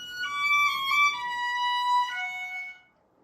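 A solo violin plays a short excerpt from Mendelssohn's Hebrides Overture, a few sustained, smoothly connected notes that descend gently and then fade out, heard close and alone.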